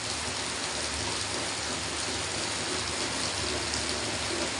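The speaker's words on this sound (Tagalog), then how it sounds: "Umulan eh. Mong lakas oh." Heavy rain pours down as a dense, constant, loud hiss of drops hitting surfaces, unbroken for the full few seconds with no talking.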